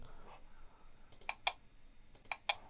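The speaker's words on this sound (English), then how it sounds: "Once again, select all mails, click on select all" Computer mouse clicks selecting all Gmail messages, two pairs of sharp, close clicks spaced about a second apart over quiet room noise.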